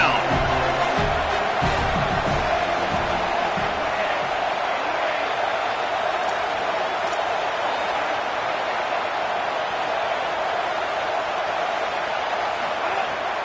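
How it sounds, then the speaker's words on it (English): Home football crowd roaring steadily as the defense tries to get off the field on third down, a dense, continuous wash of cheering from a large stadium crowd that stays loud throughout. "Here comes this home crowd as the defense tries to get off the field on 3rd down"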